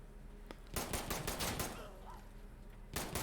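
Rapid gunfire in the shooter game Insurgency Sandstorm, with a sniper rifle in play: a short shot, then a tight cluster of loud cracks in quick succession, a brief lull, and another burst near the end.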